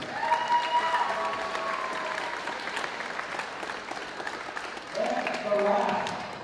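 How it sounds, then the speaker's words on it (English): Applause rolls through an audience at a high school drama state send-off, sustained and moderately loud, with voices and cheers rising over the clapping toward the end. "Give a round of applause, please."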